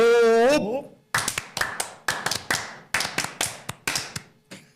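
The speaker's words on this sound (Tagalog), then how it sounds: "Sige, Japanese style palakpak." A small group of podcast hosts performs Japanese-style rhythmic clapping, a patterned sequence of sharp, close claps in grouped bursts with short pauses between them. A brief voice calls out just before the clapping starts.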